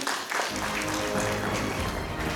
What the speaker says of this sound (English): Let's clap again for Fred Omondi.